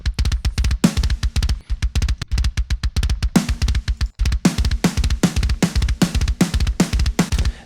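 Mixed kick and snare drums from a metal track play alone, with rapid, dense machine-gun kick patterns and sharp snare cracks landing at regular intervals, loud and close throughout.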